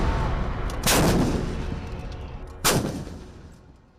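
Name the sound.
Dhanush howitzer artillery gun firing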